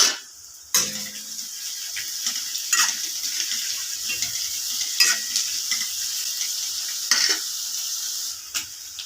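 Chopped capsicum fries in a pan for a tomato egg gravy, with a steady, close sizzle and a spatula scraping and stirring against the metal every couple of seconds.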